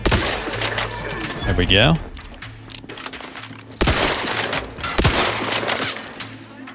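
Gunfire from a weapon in The Outer Worlds 2 rings out in loud repeated bursts and rapid volleys, with someone talking briefly between the shots.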